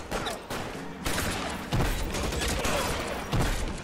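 Bursts of machine-gun fire rattle during a shootout in the video game LA Noire, brief volleys at moderate distance over a noisy action soundtrack.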